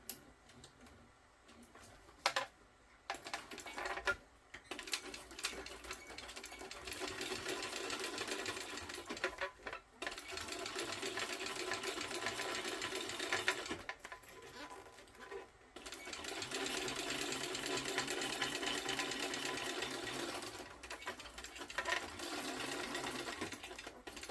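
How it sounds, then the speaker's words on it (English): A sewing machine runs steadily, top stitching along the back of a lined fabric piece, its fast mechanical whir continuing in long bursts broken by brief pauses, close and alone without talk. "Now we'll top stitch on the back."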